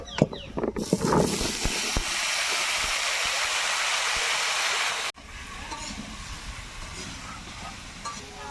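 Chopped vegetables dropped into hot fish-frying oil with dried red chili and cumin, giving a loud, steady sizzle that runs for several seconds before dying down to a quieter crackle.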